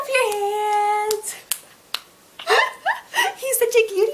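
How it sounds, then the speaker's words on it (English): A ten-month-old baby claps his hands, producing a few soft, isolated claps spaced apart while an adult talks and sings nearby. "can you clap your hands?"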